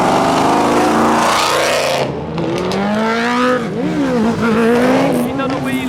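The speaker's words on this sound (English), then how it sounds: "This is so loud, this BMW." A loud modified BMW pulls away from a car meet near a roundabout, its engine roaring and revving hard with rising and falling pitch, close and dominant throughout, with a brief dip as it shifts before climbing again.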